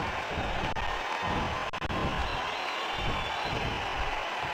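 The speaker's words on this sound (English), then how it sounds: "Would you listen to this crowd show their appreciation for these amazing competitors?" A large crowd roars and cheers steadily throughout in the wrestling video game WWE '12, a dense wash of distant voices with no break, loud and sustained.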